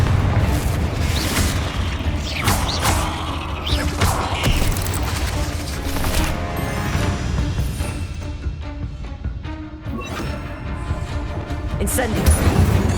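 The Confringo explosive spell in Hogwarts Legacy: a string of loud, near blasts and crashing booms, with rumbling combat noise filling the stretch and game sounds around it.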